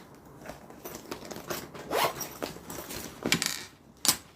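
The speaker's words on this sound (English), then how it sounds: "she has a zipper pocket on the back" Zipper of a backpack's back pocket being worked in a series of short scratchy pulls over about four seconds, close and fairly quiet, with a sharper final tug near the end and no talking.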